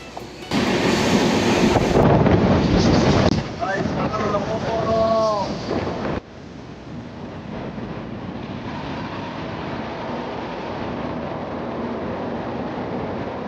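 The Grand Trunk Express on its Chennai to Delhi run roars loudly with rushing wind and rail rumble, and a voice cuts in briefly. The sound then drops abruptly into a duller, steadier drone as the train enters a tunnel.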